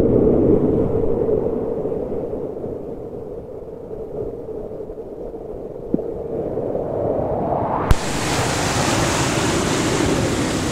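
Strong sea waves at a rocky shore during fishing, a constant loud roar of surf and rushing water close by, swelling louder and brighter near the end.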